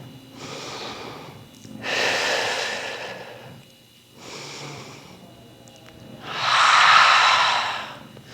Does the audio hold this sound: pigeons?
no